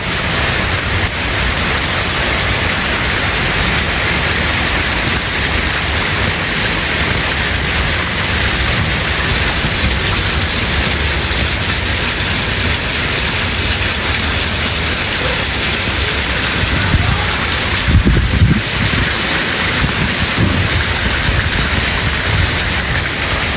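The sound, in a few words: heavy rainstorm with thunder in Islamabad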